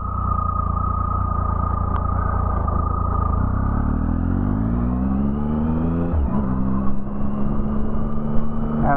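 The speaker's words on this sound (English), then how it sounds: "I haven't ridden this bike at night in a long time." A motorbike ridden at night accelerates through the gears, its engine note climbing in a long rising drone, dropping at a shift and rising again, loud and close with constant wind rush.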